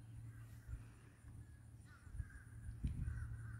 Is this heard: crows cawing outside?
yes